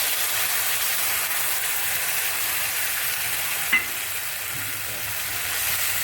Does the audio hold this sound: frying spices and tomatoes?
yes